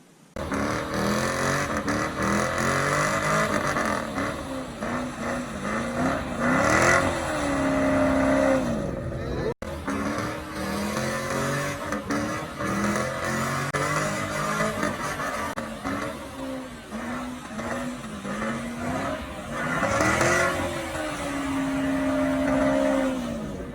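A car engine revs up repeatedly, rising and falling in pitch between stretches of rough idle, close and loud throughout.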